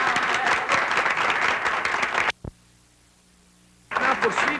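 An audience at a 1976 Saint-Jean soirée applauding the pro-mayor, dense clapping that stops abruptly, leaves a short quiet gap, then resumes.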